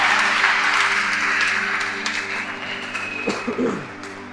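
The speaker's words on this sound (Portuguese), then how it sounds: "Dá uma salva de palmas direito aí a" Church congregation applauding in a sustained, fairly loud wash of clapping that tapers off toward the end, with a low steady hum beneath.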